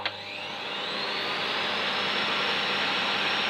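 A 1997 Miele S2511 vacuum cleaner motor spins up and then runs steadily on its low setting, a smooth, constant whirring hiss up close with no other sounds.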